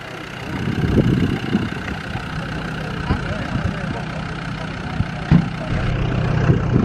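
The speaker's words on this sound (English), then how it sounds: "Apologies for the noise, it's a combination of wind and a rattly Land Rover diesel" A rattly Land Rover diesel engine idles at a classic car show, a steady low rumble under gusting wind noise, with a couple of sharper knocks partway through.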